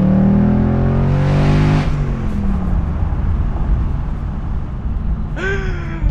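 A 2021 Ford Mustang GT convertible's V8 engine with manual transmission revs hard and climbs in pitch up close, then settles into a steady roar with road noise, ending with another brief rev.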